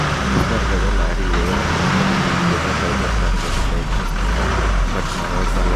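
A heavily loaded lorry's diesel engine rumbles and revs close by, a dense continuous low roar with people talking over it.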